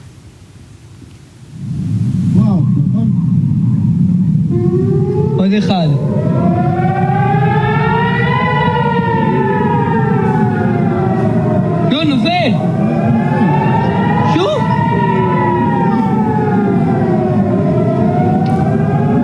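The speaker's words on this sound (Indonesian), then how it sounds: "Sirine udara diaktifkan di kota Dimona, Beersheba, dan Eilat." Air raid sirens wail across an Israeli city during a missile alert, a loud continuous rising and falling tone that keeps going with several overlapping sirens and a low rumbling background.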